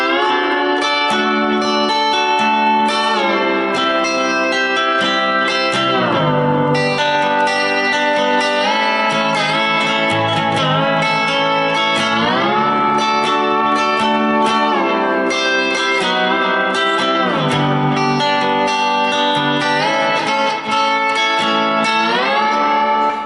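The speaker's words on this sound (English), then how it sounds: "we can make it smooth and never leave the strings, and it sounds like this." Lap steel guitar playing smooth, gliding bar slides between notes without leaving the strings, the pitch bending continuously with sustained tones and no breaks.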